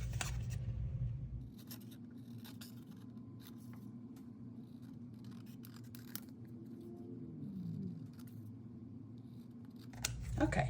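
Scissors snip out a fabric pattern piece from an antique pattern, faint close cuts in an irregular sequence over a low steady room hum, no voices.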